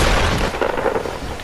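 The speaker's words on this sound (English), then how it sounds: "This stink bomb's OP, guys." A stink bomb goes off in Fortnite, giving a loud, dense burst of gunfire-like cracks and booms that rolls on steadily for the whole moment, with no talking.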